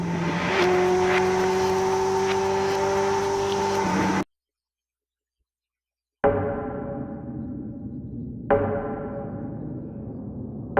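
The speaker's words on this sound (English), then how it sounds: "The motorcycle lets out a hearty exhaust note." A motorcycle exhaust note from the visual novel I/O rises loud and near as a steady engine drone, cuts to silence for about two seconds, then comes back in two fading bursts.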